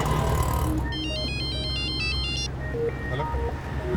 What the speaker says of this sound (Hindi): मोनिशा फोन नहीं उठा रही है सर